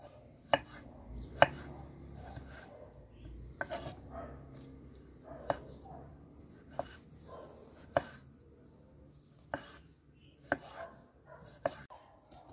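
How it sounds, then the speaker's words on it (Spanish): Tomatoes being diced into small cubes with a knife on a cutting board, sharp separate chops landing at an irregular, unhurried pace over a low steady room hum. "Voy a comenzar por picar mis jitomates en cubitos"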